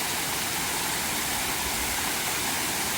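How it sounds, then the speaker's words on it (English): Chapman Falls, a small waterfall in Devil's Hopyard State Park, gives off a steady, even rush of falling water that holds unchanged throughout, with no voices. "Cute little waterfall."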